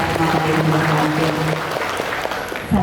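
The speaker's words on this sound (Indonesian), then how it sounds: "Tepuk tangan dulu ke anak-anak kita semua tadi yang berhadir." Audience applause at a 2023 vocational high school job fair at SMK Negeri 3 Palembang, a steady wash of clapping filling the room over faint tonal background sound, easing slightly near the end.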